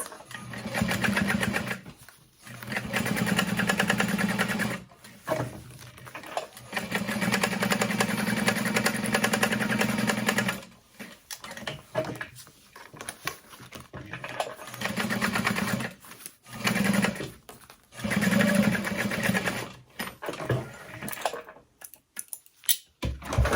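A sewing machine bastes fabric down on a cross-body sling bag. Its rapid mechanical stitching hum comes in several bursts of a few seconds each, separated by pauses and quieter handling noises, with no talking.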